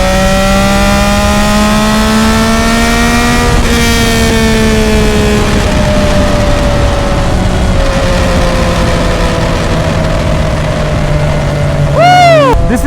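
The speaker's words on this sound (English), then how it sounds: "let off the throttle, get back on it ever so slightly, and you'll hear some pops" A 2025 Yamaha R9 motorcycle with a Dominator GP3 full-system exhaust and ECU flash revs loudly at close range, its engine note climbing and falling, then crackling pops sound as the throttle is eased.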